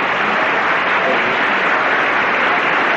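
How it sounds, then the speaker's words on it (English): Loud, steady studio audience applause on a 1974 daytime television game show, a thick continuous wash of clapping that holds evenly from start to finish. "We got to give them some applause"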